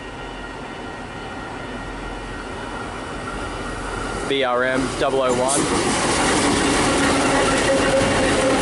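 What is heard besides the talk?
coal train with locomotives passing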